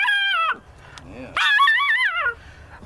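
A dog lets out high, wavering whimpering yelps in two drawn-out bursts with a short low whine between them, loud and close by, with no talking over the cries.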